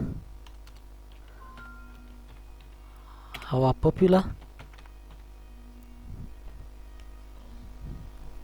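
Someone types on a computer keyboard while building a website. Faint, scattered key clicks sound close in a quiet room, with a short louder burst near the middle.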